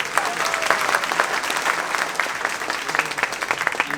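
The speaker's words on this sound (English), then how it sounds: "How many of you know that by applause?" Dense, steady audience applause fills a high school honor band concert hall, many hands clapping together in a continuous roar with no pauses over the whole stretch.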